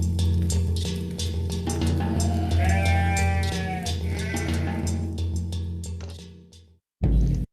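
A flock of sheep bleats repeatedly, several overlapping wavering cries layered over a steady low rumble, fairly close and loud, before the sound cuts out briefly near the end.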